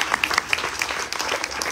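Applause from the audience at a Ganesh Chaturthi Utsav gathering, a short burst of clapping with a few sharp individual claps and whistle-like tones standing out, fairly loud throughout.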